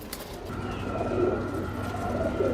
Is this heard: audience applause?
no